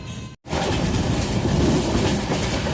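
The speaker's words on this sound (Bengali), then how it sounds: "ট্রেন তার নিজের ছন্দে ছুটে চলেছে।" A train running just after leaving Gaya Junction gives a loud, steady rumble and rattle of carriages heard from on board, with one short break near the start and then continuous rolling noise.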